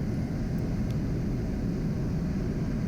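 A FireBoss airplane on an instrument approach, heard from inside as a steady, loud, broadband engine and airflow roar with no breaks.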